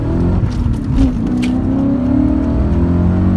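A deep, rumbling 4.9-liter BMW sedan V8 revs close by, surging loudly then settling into a steady, throaty burble for a few seconds.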